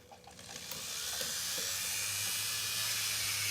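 An electric nail drill with a bit spins up for solar nails, a high whining hiss that rises over the first second and then holds steady and close, without speech.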